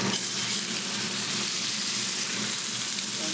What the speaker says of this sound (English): Flip that over, let that other side get a little bit of color